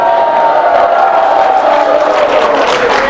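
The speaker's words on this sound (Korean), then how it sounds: "Give the Lord a shout of praise for it." A large church congregation at a Korean conference shouts praise, a loud, sustained roar of many voices with cheering and whoops that fills the space continuously.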